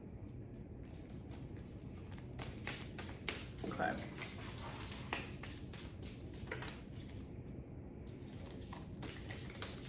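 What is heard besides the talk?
shuffling tarot cards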